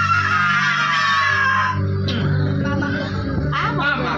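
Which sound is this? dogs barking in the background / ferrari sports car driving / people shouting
people shouting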